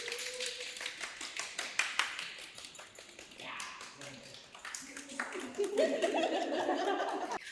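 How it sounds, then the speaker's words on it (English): Studio audience on a dating show claps for a contestant, scattered uneven clapping with laughter and chatter mixed in, while voices talk over it later. "go ahead and give him a round of applause"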